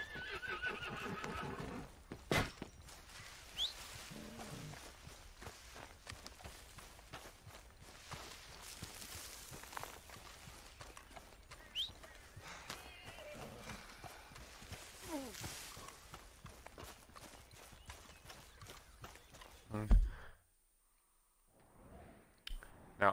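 A horse whinnies and its hooves clop and shuffle in Red Dead Redemption II, amid busy game ambience and occasional voices, before the sound drops to near silence at the end.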